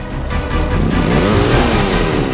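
A motorbike engine revving loudly up close, a rough sustained roar that rises in pitch, from a crime drama.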